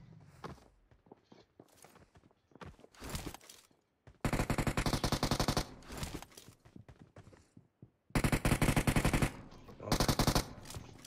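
Gunfire rings out in a shooter video game: quiet footsteps and scattered shots give way to two long, loud bursts of rapid automatic fire separated by a pause, with sparse single shots in between.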